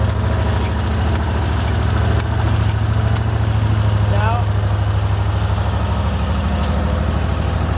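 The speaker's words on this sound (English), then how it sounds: "So the first was turn the machine on, allow the machine to run for about a few seconds or maybe a minute to warm up" An Amtex Marine 4047 APO machine engine runs at a set RPM with a loud, steady, low-pitched drone and a constant hum. A few faint clicks and a brief squeak sound over it.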